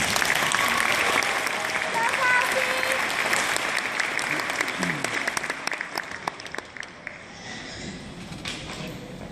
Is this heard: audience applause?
yes